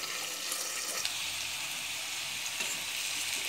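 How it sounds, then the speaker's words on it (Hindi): Potatoes fry in a pan over a low to medium flame, giving a steady, close hiss and sizzle that holds evenly throughout, with no talking. "चलाते हुए मैंने 4 से 5 मिनट फ्राई किया लो टू मीडियम फ्लेम पे"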